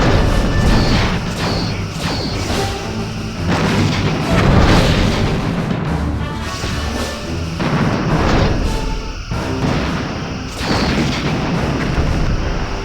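Photon torpedoes fire and detonate in Star Trek Bridge Commander space combat: loud, repeated booming blasts and crashes roll on continuously with no pause.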